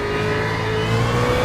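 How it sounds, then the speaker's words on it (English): Race car engine in iRacing at Sebring braking hard and downshifting into third gear, a loud, steady close-up engine drone with a slight rise in pitch near the end. "Heavy braking, down into third gear."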